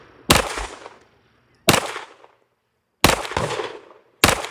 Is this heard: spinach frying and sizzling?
no